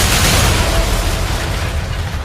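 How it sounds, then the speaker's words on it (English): A video game artillery strike explodes in a loud, sustained boom with rumbling low end that fills the whole moment and slowly tails off. "We need an artillery strike here."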